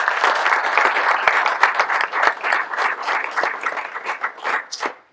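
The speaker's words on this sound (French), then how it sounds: "Je pense qu'on peut l'applaudir parce qu'il a fait quand même pas mal de travail." Applause fills a football club's general assembly, a steady roomful of hands clapping continuously with sharp individual claps standing out, fairly loud and close, without talk.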